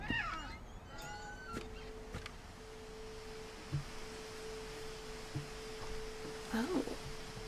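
A cat in the video game What Remains of Edith Finch gives a few faint, drawn-out meows, first near the start and again near the end, over a quiet steady hum and a few soft chirps.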